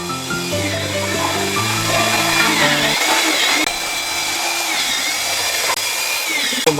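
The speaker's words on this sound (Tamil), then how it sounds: "ஸோ உள்ளுக்குள்ள வந்து ட்ரில் பண்ணிட்டு இருக்காங்க." Power drill boring through the timber wall of a wooden house to run a gas pipe, a loud continuous whining grind close by, with a low humming tone underneath during the first three seconds.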